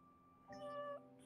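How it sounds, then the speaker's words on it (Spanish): A cat in The Sims video game gives a single short meow in an odd high pitch, quiet and close, with no talking over it. "Tiene como un maullido en un tono muy, muy raro"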